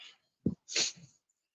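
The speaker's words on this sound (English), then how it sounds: "That's why I keep sneezing." A man sneezes once, a short sharp burst after a faint breathy intake, close and alone in a quiet room, followed by a brief low snuffle.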